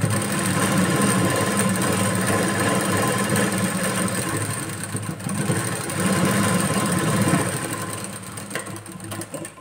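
A sewing machine runs in a steady whirring, buzzing stream while stitching a seam on the back piece of a blouse, close and continuous with a brief slowdown midway.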